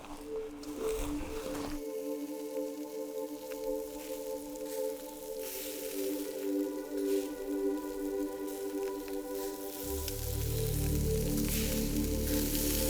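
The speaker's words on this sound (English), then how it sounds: "meat sizzling over the fire" Meat sizzling and crackling in hot oil over a fire in South Africa, a continuous hiss that swells louder toward the end, with steady tonal hum in the background.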